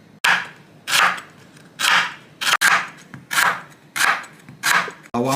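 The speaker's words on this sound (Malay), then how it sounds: "Serai sebatang. Yang ini kita ricih dulu." A lemongrass stalk sliced on a board, about eight crisp cuts in a steady rhythm, each a sharp close crunch with a brief tail, alone without talk.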